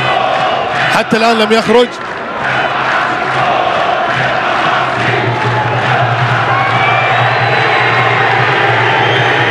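A Senegalese football crowd in a stadium at a youth Arab Cup semi-final against Egypt, a loud, continuous roar and chanting throughout with a brief burst of whistling and shouts early, under an Arabic commentator's voice.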